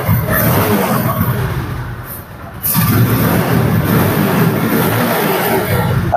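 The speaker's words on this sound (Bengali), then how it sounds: "তারপর সাউন্ড কন্ডিশন আপনাদেরকে দেখে দিচ্ছি বাইকটি" Close, loud, steady running of an Apache RTR 160 2V motorcycle engine, with a brief dip in level partway through before the throb resumes continuously.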